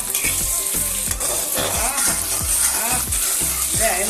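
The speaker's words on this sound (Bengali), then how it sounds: "আহা রে কি ভাজা হইতেছে রে ভাজা" Mutton pieces fry in a pan for a mutton curry, giving a loud, steady sizzle close by with repeated scraping stirs throughout, and no voices.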